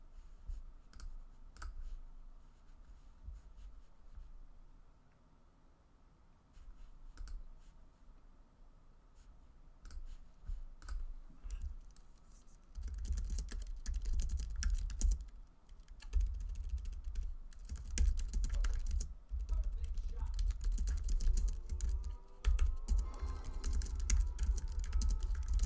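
Computer keyboard typing, sparse faint keystrokes at first, then bursts of quick, near clicking and tapping over a low background hum.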